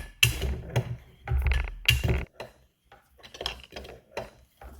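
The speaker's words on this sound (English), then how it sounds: "Take our wrench, same thing, we're going to tighten it up." Wrench tightening the packing nut on a Titan airless paint sprayer that is leaking, close metallic ratcheting and scraping in short irregular bursts with brief pauses between.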